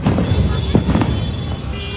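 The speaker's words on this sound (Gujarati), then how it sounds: "ફાઇનલી ફટાકડા ફોડવા નીચે આવી ગયા" Diwali firecrackers burst outside near a home, a dense crackle of sharp pops and snaps over a rumbling background, loud and close, with faint voices mixed in.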